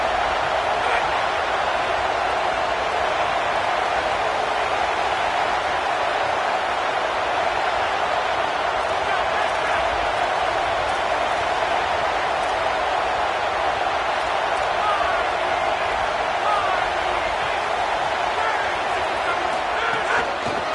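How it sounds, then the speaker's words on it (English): A stadium crowd roars continuously in an NCAA college football video game near the goal line, a dense, unbroken wall of cheering that holds steady at high volume throughout. "This crowd knows when to bring it."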